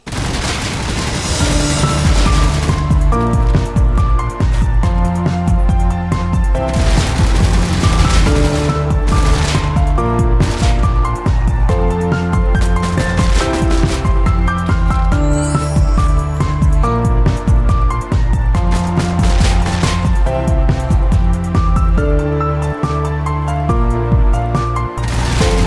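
Rapid bursts of HP ACR rifle fire in a Roblox zombie survival game, loud close volleys of repeated shots over a droning music bed, running nearly continuously.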